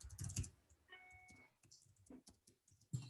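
Quiet clicking of a computer keyboard, a few scattered keystrokes at irregular spacing with faint pauses between them, close and soft.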